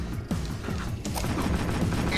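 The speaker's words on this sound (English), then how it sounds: "Dodging the gunfire of the security tank is a task in itself" Rapid gunfire from a security tank in Jak II on PS4 rattles in dense bursts, loud and close, layered with crashing impacts and booms throughout.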